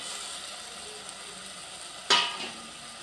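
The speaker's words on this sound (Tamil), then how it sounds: "இப்போ நம்ம இந்த கத்திரிக்காயை போட்டுக்கலாம்." Brinjal hits a hot pan for thick brinjal thokku, giving one sudden loud sizzling burst that quickly fades into a soft, steady frying hiss.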